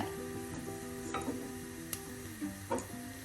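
Whole fennel seeds, cinnamon sticks, cardamom pods and cloves fry in hot coconut oil for a Kerala mutton curry, giving a soft steady sizzle with a few light clicks and scrapes as the spices are stirred in the pan.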